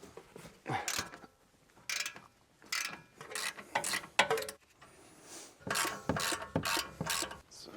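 Mechanical clicks and ratcheting bursts come from tools loosening the shock absorber bolts on a rare BMW M car. They arrive in rapid, moderately close clusters with short pauses between them, and no one speaks.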